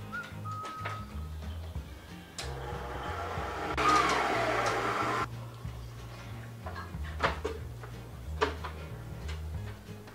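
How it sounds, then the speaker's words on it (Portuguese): An electric mixer beats a sweet condensed-milk bread dough, whirring loudly for a couple of seconds amid scattered clicks and knocks of kitchen handling. "E agora vamos bater essa massa aqui."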